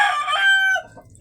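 A large chicken gives a short, loud call close by, a bright crowing cry that rises and trails off within about a second, with no talk over it.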